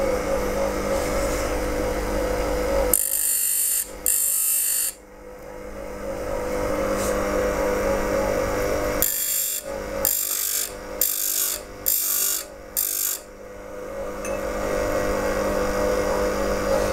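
A bench grinding wheel sharpens and thins a skew chisel, with a steady high whine and hiss as the wheel spins, broken by short bursts and gaps as the steel is pressed against it and lifted off.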